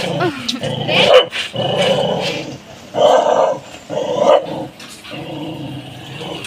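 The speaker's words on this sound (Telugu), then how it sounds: "అక్కడెక్కడో కుక్కలుంటే" A dog barks and growls close by in a noisy, busy setting, with voices mixed in around the rough, continuous vocalizing.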